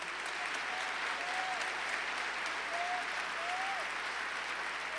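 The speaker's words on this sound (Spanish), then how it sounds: "den un fuerte aplauso al Señor" A congregation in a church gives loud, sustained applause, a dense steady wash of clapping filling the whole stretch, with faint voices and shouts drifting over it.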